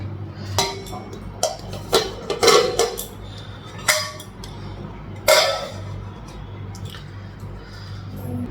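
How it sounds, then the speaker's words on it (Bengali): Metal lids clink down onto pots of cooked curry in a home kitchen, a series of sharp separate clanks and taps with quieter shuffling between them and faint background hum. "তরকারিগুলো ঢাকা দিব আমি"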